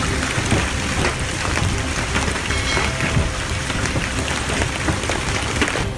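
Heavy rain with large hail pours down during a Texas thunderstorm, a dense, loud, continuous hiss and patter that stays even throughout with no voices.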